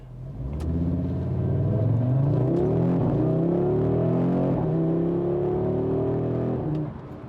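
A 2022 Audi RS 3 with 401 horsepower and all-wheel drive launches hard, its engine rumbling and rising in pitch through several gear changes, heard from inside the cabin, loud and steady before easing off.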